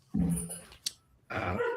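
A dog barks and growls in bursts, two loud rough spells separated by a quieter gap with a brief sharp yelp in between, sounding fairly close.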